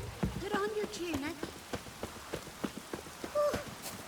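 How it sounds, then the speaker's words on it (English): Rain patters steadily in The Witcher 3: Wild Hunt, with voices talking over it and soft, irregular thuds scattered through the patter. "It's raining."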